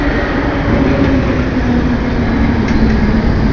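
A London Underground train at Notting Hill Gate station, an old station with 1870s metal structure, gives a steady loud rumble and rolling roar throughout, with a faint low hum and no talk.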